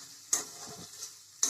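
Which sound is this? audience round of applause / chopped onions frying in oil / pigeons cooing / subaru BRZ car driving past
chopped onions frying in oil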